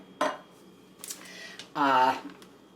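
A spoon scrapes and clinks around a pot of green bean casserole in a home kitchen, a few brief scraping bursts with short gaps between them, close by and moderately loud, with a little talk in the background.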